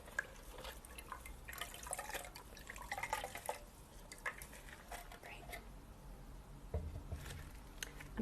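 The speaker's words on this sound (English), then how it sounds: "let's submerge our sponge." A shoe-shine sponge soaked in water gives soft, intermittent drips and squishy splashes, faint and close, with a small clatter of a dish or container near the end.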